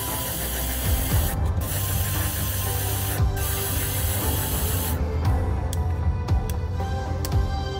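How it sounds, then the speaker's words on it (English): White spray paint hisses in steady continuous bursts through a baby wipe onto a black-primed Adeptus Custodes miniature, with short pauses and clicks of the can between sprays. "spray white through it"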